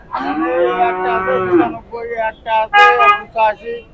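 Loud, drawn-out cow moo up close at a cattle market in Shahapur, Dumuria, Khulna, followed by several shorter lowing calls in quick succession over a busy background.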